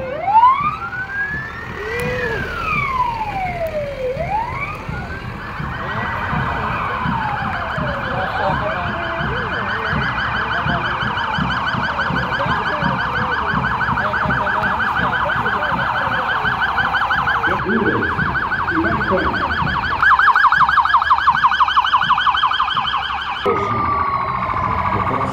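Federal Police vehicles in a motorized Independence Day parade on a seaside avenue in Fortaleza, several wailing and yelping sirens overlapping with engine rumble, loud and near, with the pitch sweeping up and down before settling into a steady tone.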